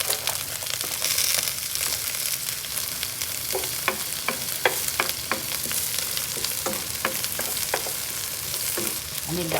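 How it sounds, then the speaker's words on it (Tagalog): Garlic sizzles and fries in a pan after chicken has been seared for coconut-milk chicken adobo, a constant crackling hiss broken by sharp stirring scrapes and clicks. "after searing the chicken, we're gonna saute the garlic"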